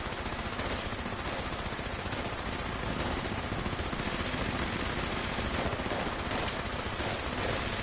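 Rapid, sustained automatic gunfire from a weapon with a boosted fire rate in the game Fallout 76, a dense unbroken stream of shots filling the whole stretch at steady loudness.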